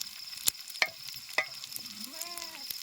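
Red Bombay duck (bombil) fish fried in a Konkan home kitchen, a faint low sizzle under three sharp metallic clinks of a utensil, followed by a brief soft rising tone.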